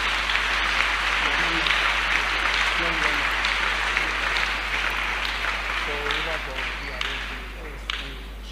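A church congregation applauds, a dense, continuous roar of many clapping hands filling the room and slowly easing off, with voices calling out underneath.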